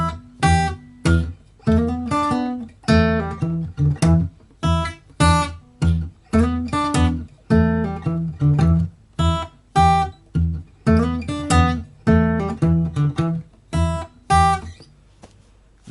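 A guitar plays a steady, rhythmic blues riff, with plucked chords and low thumb-picked bass notes falling on the beat, clear and close, with no talking.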